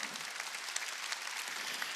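A congregation applauds during a Wednesday worship service in a Korean church, a soft, even, distant-sounding patter of many hands clapping that continues unbroken with no speech over it.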